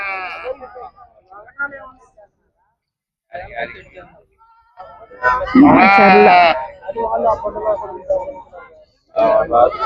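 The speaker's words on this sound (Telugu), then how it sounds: "ఇవి మాచర్ల గొర్రెలు." Macherla breed sheep bleat in bursts at a sheep and goat market, one loud drawn-out bleat standing out in the middle, with people talking nearby in between.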